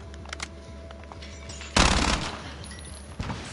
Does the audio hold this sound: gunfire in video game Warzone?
yes